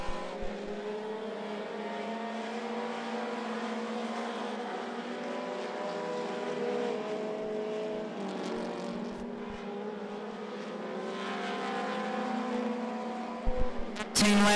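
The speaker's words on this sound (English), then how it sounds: "Derek Dugan dominating in the four-cylinder division" Four-cylinder race cars circle an oval track at I-75 Raceway, their engines a steady, droning wall of revving with shifting pitch as they pass. A few sharp knocks come near the end.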